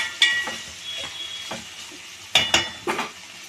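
Ivy gourds (dondakaya) frying in a pan, a soft continuous sizzle broken by spaced metallic clinks and scrapes of a spatula stirring, a few sharper knocks near the end.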